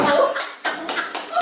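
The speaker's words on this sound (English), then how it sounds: "give it a clap" A group of people clapping hands during a workplace training session, a short burst of several sharp, uneven claps close by with voices talking over them.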